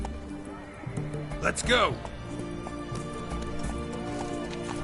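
Roach the horse in Witcher 3 lets out a sharp, close whinny over rhythmic galloping hoofbeats, while someone shouts briefly and other voices and game sounds continue around it.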